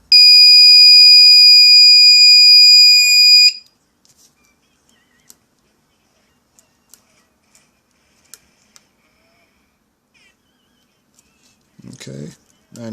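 An LM8361 alarm clock alarm sounds as a loud, steady electronic tone for a few seconds, then stops, leaving faint scattered clicks before a voice speaks briefly near the end.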